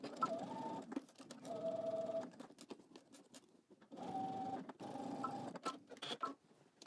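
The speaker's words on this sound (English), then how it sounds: "we're gonna go ahead and stitch this together using 5/8 of an inch seam allowance" A sewing machine stitches a garment seam with a 5/8-inch allowance, whirring in several short, quiet bursts separated by brief pauses. No talking is heard.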